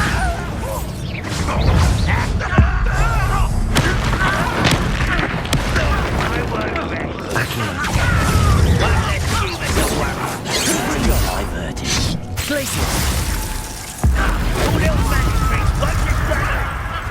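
Bombarda explosion spell blasts in the video game Hogwarts Legacy, booming impacts and crashing debris amid continuous loud combat noise, with spoken voices over the action.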